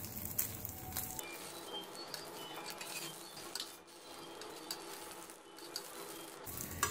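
Egg sandwich frying in a pan over low heat, a steady close sizzle and patter of oil throughout with no talking.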